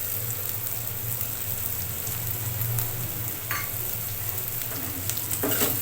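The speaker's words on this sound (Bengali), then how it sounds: "এখন যে বাটা মশলাটা রেডি করে রেখেছিলাম সেই মশলাটা দিয়ে দিচ্ছি" Ground spice paste frying in hot oil in a pot of raw jackfruit and potato curry, heard as a soft, even sizzle with a few light stirring scrapes, close by and without speech.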